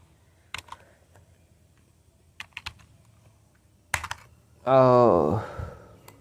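Keystrokes on a computer keyboard while pasting with Ctrl+V during a Python coding session, a few sparse clicks spaced over several seconds, close and fairly quiet, followed by a brief burst of voice at the end.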